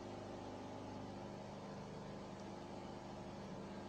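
Sewing machine running a second line of stitching over a folded pocket cover on a shirt, a steady mechanical whir with a fast regular stitching pulse, close and continuous with no pauses.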